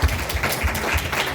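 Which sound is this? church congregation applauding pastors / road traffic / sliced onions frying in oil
church congregation applauding pastors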